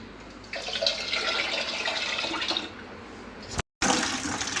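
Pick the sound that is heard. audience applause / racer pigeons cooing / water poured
water poured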